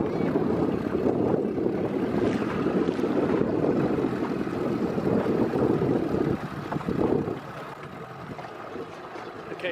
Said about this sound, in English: And we're blowing hard with the wind right now.